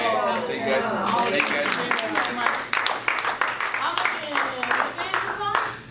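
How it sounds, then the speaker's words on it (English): A small online wellness-webinar group claps in scattered, uneven bursts after a funky urban-beats session, fairly close and modest in volume, with people talking over the clapping throughout. "big round of applause"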